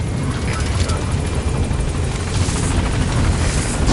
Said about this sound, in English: Boss, the chopper's defenseless while it's coming in the land